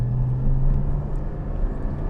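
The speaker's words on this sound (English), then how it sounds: "naturally aspirated 4-liter Boxer 6 engine" A Porsche 718 Spyder's naturally aspirated 4-liter boxer six engine rumbles at a low, steady idle-like drone, close and continuous for a couple of seconds.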